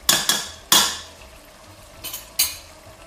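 A spoon clinks and scrapes against a pot while tomato paste and harissa are stirred together for okra stew, giving a few sharp knocks followed by quieter scraping, with no talking.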